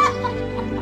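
A cartoon farm hen clucks in a short, close, steady burst of throaty chatter.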